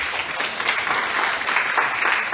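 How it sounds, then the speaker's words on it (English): Audience at a university architecture event in Taiwan breaks into applause, a continuous, fairly loud patter of many hands clapping for a couple of seconds without talk. "Let's welcome Mr. Yunlin. Let's applaud"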